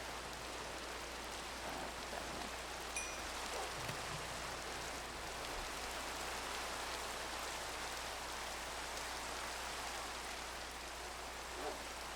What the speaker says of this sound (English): I want the rain to go away.